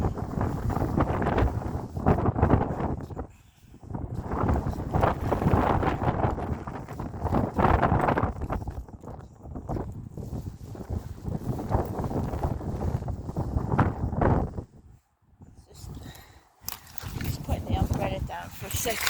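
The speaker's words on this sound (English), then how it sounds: "because it's too windy." Gusty wind buffets the microphone on a wet, windy rainy morning walk, loud rumbling bursts that rise and drop with brief lulls, while people talk underneath.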